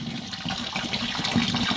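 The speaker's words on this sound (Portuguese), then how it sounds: "Nossa, eu tô jogando água, hein?" Water poured and splashing steadily while an aquarium is cleaned, a continuous gushing wash with no speech.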